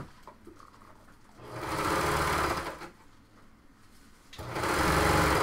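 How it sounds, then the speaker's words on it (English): Serger overlocker stitching the side seam of a blouse, running in two loud sustained bursts with a quieter pause between, close and steady with no talk. "we're going to go to the serger on this"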